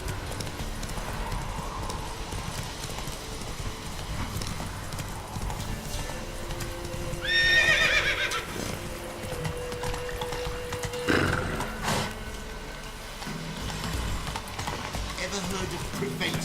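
Roach the horse galloping in The Witcher 3, with steady rhythmic hoofbeats throughout, a sharp whinny partway through, and game voices speaking over the action.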